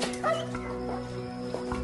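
A dog barks and whimpers indoors, a few short yips and whines, fairly faint and close, mixed with low background murmur.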